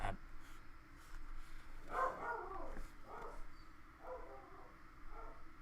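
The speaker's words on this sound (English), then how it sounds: "I apologize if you can hear my dog barking." Faint, muffled dog barks in a few short bursts, heard from a distance over quiet room noise.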